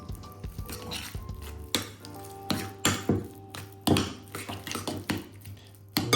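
Cream cheese and ham are mixed by hand in a bowl, with repeated close scraping and knocking of a utensil against the bowl in an irregular rhythm, punctuated by sharper clinks, and no talking.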